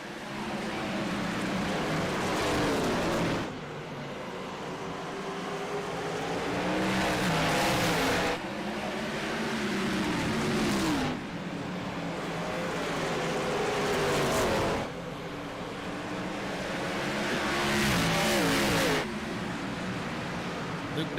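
Race trucks roar around the Bristol dirt track in a loud, continuous pack, engines surging and fading in repeated waves as they pass, under a commentator's running talk.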